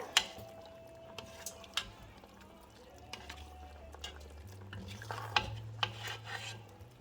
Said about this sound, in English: let's add our potatoes. Let's give that a nice stir.